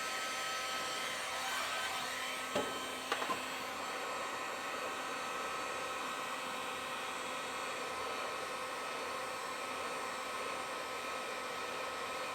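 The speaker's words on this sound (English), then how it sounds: "The heat gun is all we need. We're just going to warm it up a little bit just to soften up the plastic." Heat gun blowing a steady, even rush of hot air onto the plastic of a car headlight on an Acura RDX. The sound is constant and close, with a couple of faint knocks partway through and no talk.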